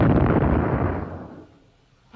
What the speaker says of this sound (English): It sounded more like an ancient cannon.